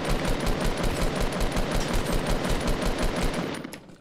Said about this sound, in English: Did that sound like an AR shot to any of you guys too? Which one? His hunting rifle shot?